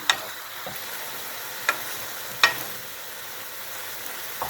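Beef liver sizzling steadily in a pan as it cooks in its own released juices for kavurma, a continuous soft hiss broken by a few sharp crackles and utensil clicks, close and alone.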